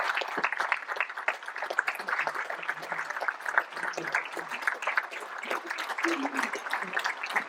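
Warm applause from a modest crowd at a mayor's New Year's greetings ceremony in Cruguel, France, with a rapid uneven patter of many hands clapping steadily, moderately loud and close, and a few faint murmurs underneath.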